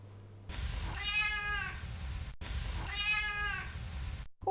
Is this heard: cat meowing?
yes